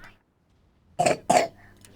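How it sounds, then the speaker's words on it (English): Two short, sharp coughs burst out close to the mic in quick succession, after a near-silent stretch. "coughing away"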